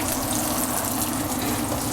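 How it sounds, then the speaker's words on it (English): Breaded eye of round beef cutlet frying in hot oil, a steady close hiss and crackle of sizzling that holds without a break and with no talking. "You put the meat in gently away from you, because that way you avoid having the possibility of splashing that hot oil either on your hand or on your arm."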